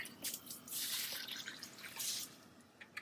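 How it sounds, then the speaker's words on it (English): Water drains and drips from an opened water softener canister, a close, busy patter of drops and trickling with splashy bursts, fading toward the end. "I'm going to take this out and drain the water."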